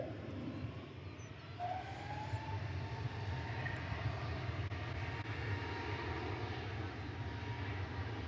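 An aircraft landing at DFW Airport, heard as a distant, steady, low roar of jet engines beneath faint ambient noise, with no one speaking.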